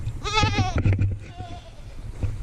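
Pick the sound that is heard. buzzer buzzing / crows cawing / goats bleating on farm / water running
goats bleating on farm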